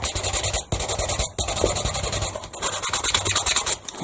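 Sandpaper rubs back and forth across a small Dollar Tree craft piece to wear its printed pattern away, a close, steady scratchy rasp in repeated strokes with a couple of brief pauses.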